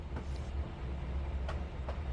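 A CSX freight train leaves a rail yard in the Trainz 2019 simulator game, a low steady rumble of rolling cars and engine drone with faint clanks, continuous and moderately quiet.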